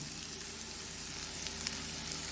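Marinated chicken fries in a hot pan in a home kitchen, giving a steady, close sizzle with fine crackling that runs unbroken throughout, with no talking.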